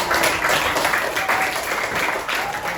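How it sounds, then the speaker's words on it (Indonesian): A classroom of students breaks into dense, steady applause that stays loud and continuous for about three seconds, with the clapping of many hands blending into one wash. "Tepuk tangan."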